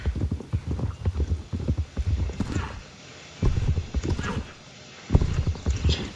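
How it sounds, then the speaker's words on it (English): A Brabant horse gallops in the video game Star Stable, with rapid rhythmic hoofbeats in loud close bursts separated by brief pauses. "And let's see the gallop."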